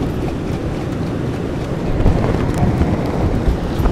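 Steady wind roar buffeting the microphone over rushing river water, growing louder and gustier about halfway through.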